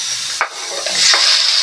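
Tomato sautéing in a pan makes a bright, steady sizzle with a couple of short stirring scrapes, close and loud.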